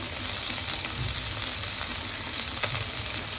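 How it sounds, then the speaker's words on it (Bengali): Pieces of fish frying in a pan, a steady dense sizzle running throughout at close range with no talk. "মাছগুলা কি ভাজা হয়ে গেছে"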